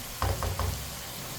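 Potatoes cooking in oil in a pan while yogurt-potato curry is made, with a few soft close knocks of a stirring spoon against the pan over a low sizzle.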